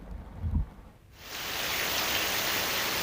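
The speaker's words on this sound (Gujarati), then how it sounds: "ગીર જંગલ સાસણ અને તાલાળા વચ્ચે ધોધમાર વરસાદ છે તે વરસી રહ્યો છે" Heavy monsoon rain pours down in the Gir forest between Sasan and Talala. After a short muffled opening, a steady, dense hiss of rainfall holds loud and even to the end.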